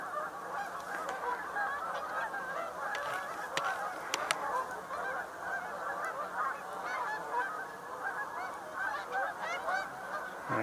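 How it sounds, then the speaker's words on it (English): Mallard ducks call continuously at a distance on a wetland outing, a steady chorus of honking quacks from a mixed waterfowl flock, with no voices. "Mallard back there."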